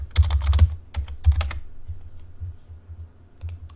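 Short bursts of typing on a computer keyboard, clustered keystrokes including repeated backspace presses, close and crisp with pauses between bursts.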